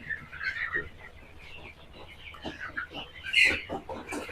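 Sonali chickens cluck in short bursts against a busy poultry farm background, with some voices murmuring faintly.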